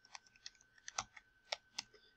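Light clicks of typing on a computer keyboard, about a dozen irregular keystrokes with a couple of heavier taps, quiet and close with no talk.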